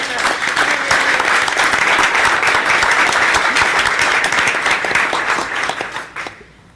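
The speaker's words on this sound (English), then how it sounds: "I'd like to have them stand in for a round of applause as well." A room full of people at a city council meeting gives a loud, steady round of applause that holds evenly for several seconds, then tapers off quickly at the end.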